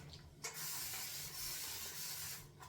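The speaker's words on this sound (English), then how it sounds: "Just got that spray straight in my eye" A steady, close hiss of liquid spraying from a bottle, sustained for a couple of seconds before cutting off.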